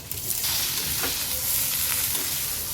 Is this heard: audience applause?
no